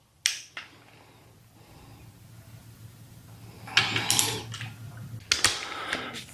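A torque wrench tightens bolts on a rebuilt Kubota/Kawasaki V-twin water-cooled engine, giving sharp metallic clicks at the start and later in bursts. Faint ratcheting and handling noise run between the clicks, all close up.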